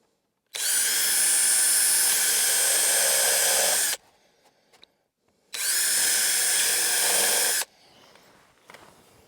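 Power drill driving diagonal screws into wood, two long, loud, steady whirring runs with a short gap between and light handling noise after each, close by and without speech.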